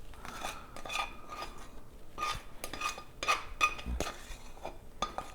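A metal spoon scrapes caramelized onions out of a pan into a bowl for Swedish meatballs, making a series of close, uneven clinks and scraping strokes with short pauses between them and no talking.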